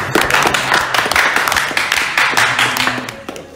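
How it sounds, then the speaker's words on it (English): Brief round of applause at a live poker game, a few seconds of close, loud clapping from a small group of players around the table, with murmured voices underneath. "Round of applause for Kinder, ladies and gentlemen."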